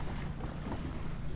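A sailboat sailing over its anchor on open water, with a steady rush of wind, waves and hull noise, constant and close with no talking.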